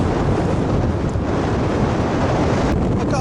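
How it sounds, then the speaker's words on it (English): Strong wind blowing across an open field, a loud, constant rumbling buffet against the microphone that barely varies. "And that wind is blooming awful."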